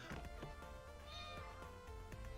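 A domestic cat meows up close in a single drawn-out, wavering call lasting a couple of seconds, with no other voices around it.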